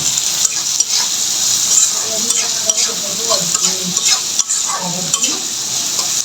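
Turmeric and dried chili powder get stirred into a frying chapila fish curry, a loud close sizzle with repeated spoon scrapes and light clinks against the pot throughout.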